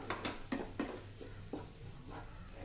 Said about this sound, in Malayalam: ടൊമാറ്റോയും കൂടെ ഇതിൻ്റെ കൂടെ ചേർന്നിട്ട് നല്ല രീതിയിൽ വഴട്ടി ആ എണ്ണ പിരിഞ്ഞ് വരുന്നവരെ നമ്മൾ വഴട്ടി കൊടുക്കണം